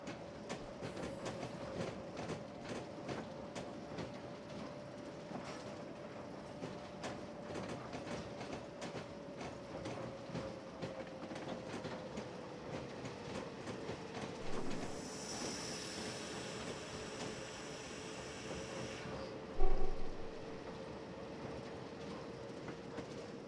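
A Class 08 shunter from the Train Simulator game on the Woodhead Line rolls along with a rhythmic clickety-clack of wheels over rail joints and a steady engine tone, then a short hiss and a thump near the end.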